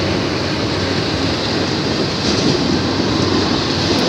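A Norfolk Southern freight train passes close by as a loud, continuous broadband rumble and roar, steady throughout with no voices.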